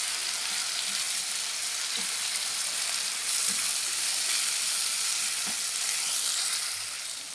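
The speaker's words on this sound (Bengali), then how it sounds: "এখানে দিয়ে দিচ্ছি আমি আদা রসুনের পেস্ট, টমেটো কুচি, 1 চামচ নুন। এবারে ভালো করে আমি কষিয়ে নেব।" Ginger-garlic paste, chopped tomato and salt sauté in a pan with a dense, steady sizzle and a few soft stirring knocks throughout.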